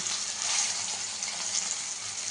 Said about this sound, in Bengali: একটু কড়া করে ভাজতে হবে